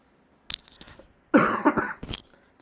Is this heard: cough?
yes